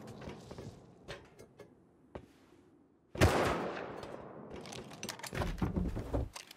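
Automated turret in Rust letting off a sudden loud burst of rapid gunfire, followed by a second sustained volley, with scattered quieter clicks and pops before it.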